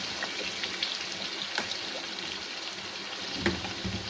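Vinegar and soy sauce pour into a hot pan for a chicken macaroni dish, a steady close liquid hiss and trickle running evenly throughout with a few faint clinks.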